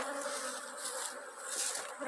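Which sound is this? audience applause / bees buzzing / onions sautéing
bees buzzing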